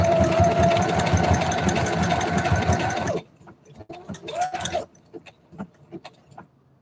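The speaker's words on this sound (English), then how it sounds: "If my sewing machine's too loud, I'm sorry, you guys. It's so fast." A sewing machine runs fast and loud for about three seconds, then stops, followed by a short whir and scattered clicks and handling noises.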